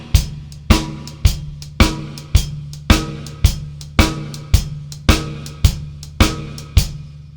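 Drum kit playing a steady blues shuffle, with hi-hat in the right hand, rim-shot snare on the backbeat and bass drum on all four beats, up close, loud and punchy, the pattern repeating evenly with no voices.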